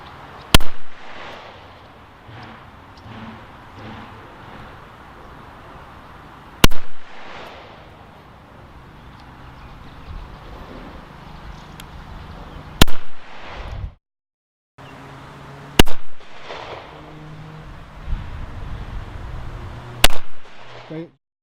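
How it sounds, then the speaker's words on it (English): A CZ P-10S pistol fires a string of sharp, loud shots in separated bursts, each crack followed by a brief ringing decay, with quieter background noise and a short silent gap between volleys. "We're going to load it and we're going to fire 12 rounds."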